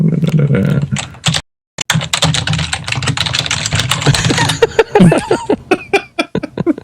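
Rapid clacking keystrokes on a computer keyboard, loud and close, with a brief gap then dense irregular typing bursts, a voice briefly heard near the end.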